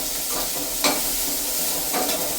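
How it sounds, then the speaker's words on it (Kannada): Onions frying in a pan with cumin and mustard seeds for a methi sabji: a steady, close sizzle with two sharper scraping stirs standing out. "ಈಗ ಈರುಳ್ಳಿ ಕೆಂಪಗಾಗೋವರೆಗೂ ಚೆನ್ನಾಗಿ ಹುರ್ಕೋಬೇಕು"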